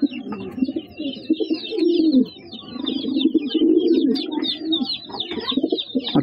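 Madrasi pigeons in a loft produce continuous low, rolling coos in overlapping waves, close and fairly loud, with faint higher chirps and twitters scattered above.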